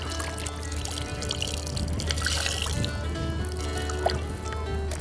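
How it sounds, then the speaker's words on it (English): Water dripping and trickling from laundry wrung out by hand, a continuous wet splashing and dribbling with a low hum underneath, close and moderately loud with no speech. "Wring it out."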